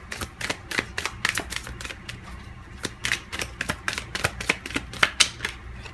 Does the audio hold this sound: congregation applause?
no